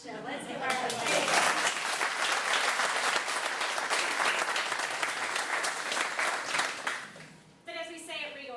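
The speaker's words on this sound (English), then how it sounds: "we have to give Christy applause" Warm audience applause for a freshman student's speech at a school scholars evening, dense and lively, fading out before a voice resumes speaking at the end.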